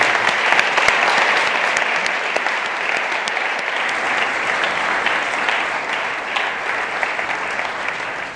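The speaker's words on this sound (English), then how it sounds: "Let's applaud him." Audience applause after a behavioral economics lecture, a full room clapping steadily and loudly for over eight seconds, slightly thinning toward the end, with no talk.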